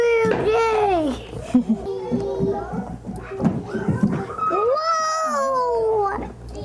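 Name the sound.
cat meowing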